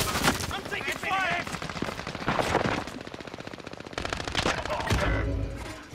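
Automatic gunfire in Call of Duty: Modern Warfare during a Rebirth match, rapid bursts of shots throughout with a few louder blasts, while players talk over the fighting.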